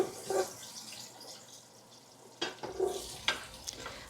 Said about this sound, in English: I chopped them up and then I am now stir frying them